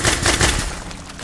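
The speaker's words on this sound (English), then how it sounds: "somebody's shooting at me." Gunfire aimed at the player in a first-person shooter, a rapid burst of broadband cracks in quick succession that tails off toward the end, loud and close with no talking over it.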